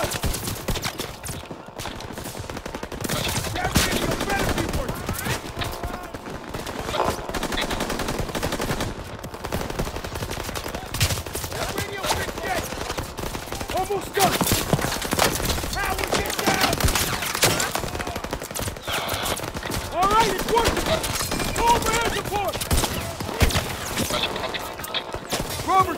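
Dense, continuous gunfire from a World War II battle in Call of Duty: WWII, with rapid machine-gun bursts and overlapping shots, loud and unbroken for the whole stretch amid the clatter of combat.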